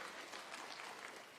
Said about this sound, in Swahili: na waziri Penina Malonza, mpigieni makofi.